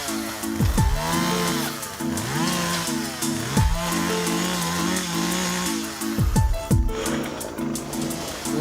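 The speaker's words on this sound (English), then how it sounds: "I can see the need for the chainsaw." A chainsaw cutting into a sabal palm tree, its engine repeatedly revving up and bogging down in long, loud surges with sharp throttle bursts between cuts, close by and without talk.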